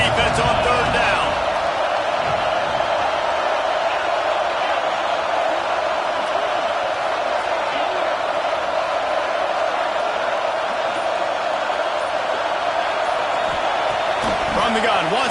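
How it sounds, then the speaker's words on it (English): Stadium crowd in the College Football 26 video game roaring on a 3rd down defensive stand: a dense, steady wall of crowd noise that holds loud and unbroken from start to finish. "Decibels rising as the crowd gets behind this defense on 3rd down."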